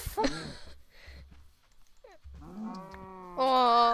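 Cow mooing in the video game Minecraft: several short synthetic lowing calls in a row, the last one louder and longer, with no talk over them.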